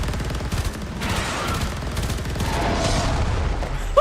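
Rapid submachine gun fire in the video game Warframe, a dense continuous rattle of shots with booming low-end impacts and layered effects throughout, loud and sustained with no speech.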